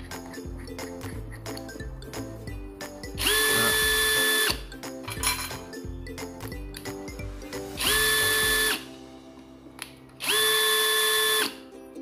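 A drill chuck is tightened onto a 105-degree right-angle screwdriver attachment with a hex shank, giving rapid ratcheting clicks punctuated by three loud, sustained whirring bursts of the drill motor spinning up close by.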